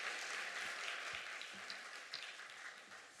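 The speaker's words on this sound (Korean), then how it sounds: "우리 박수로 하나님께 영광 돌리겠습니다" Faint, distant applause from a church congregation at an Easter Sunday morning service, a soft continuous patter lasting a few seconds with a few separate claps.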